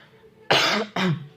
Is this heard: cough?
yes